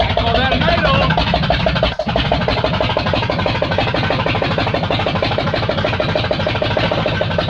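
A rebuilt engine in a 1965 Jeep Wagoneer runs at a rough, loud idle, steady and close with a brief dip partway through, while a voice talks over it.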